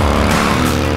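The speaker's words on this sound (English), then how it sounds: "It's got that classic burly boxer engine." A BMW R 18 motorcycle with its big boxer engine roars steadily while being ridden, a loud continuous throaty drone with rushing wind, no pause.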